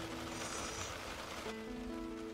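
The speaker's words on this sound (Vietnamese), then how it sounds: "Mưa bay bay rồi" Light drizzle falls on a natural riverbank, a soft, even hiss that stays low and steady throughout, with no one talking.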